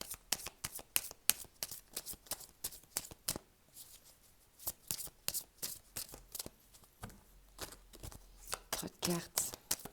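Tarot cards are shuffled by hand close up in repeated quick riffling bursts separated by short pauses, with a voice heard at times.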